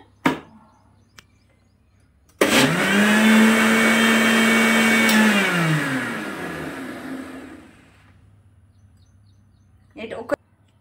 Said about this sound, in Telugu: జ్యూసర్ మిక్సీ చేసుకుందాము.